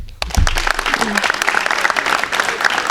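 A crowd at a high school athletic signing event breaks into loud, sustained applause with dense clapping throughout, a few voices mixed in.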